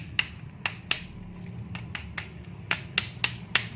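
Sharp hammer taps on a Super Taper hair clipper part as it is driven into place, heard as about ten close, crisp knocks in uneven bursts over a quiet background hum.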